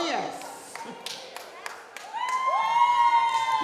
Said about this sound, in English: Make lots of noise for them and let them feel good.